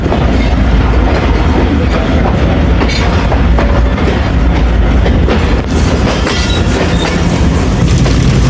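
Karachi Express train running over a diamond crossing on the Multan to Lahore line: loud, continuous rumble and rattle of wheels close by, with dense clickety-clack of wheels striking the rail joints.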